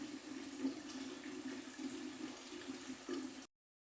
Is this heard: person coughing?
no